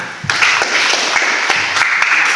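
Classroom applause, a brief round of clapping from students that fills the room with a dense patter, loud and close, no voices over it.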